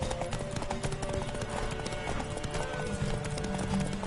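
Rapid horse hoofbeats clatter steadily under a busy soundscape in the video game The Witcher III, a continuous galloping rhythm at moderate volume.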